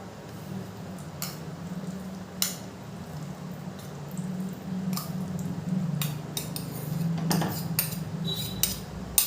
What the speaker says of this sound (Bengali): সাবুদানাটা দিয়েও খুব ভালো করে মিশিয়ে নেব